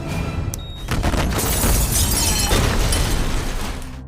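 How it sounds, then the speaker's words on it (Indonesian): A car blows up in a dramatic film scene: a loud, deep boom floods the whole range and holds a roaring, crackling rumble with shattering debris for several seconds before slowly fading. No one speaks. "tiba-tiba saja terjadi ledakan dari sebuah mobil"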